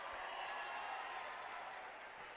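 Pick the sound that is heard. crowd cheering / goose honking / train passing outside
crowd cheering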